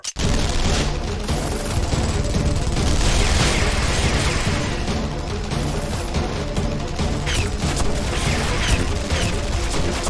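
Dense, sustained bursts of automatic gunfire rattle on without pause, loud and close, with heavy booms and crashing impacts mixed through the barrage.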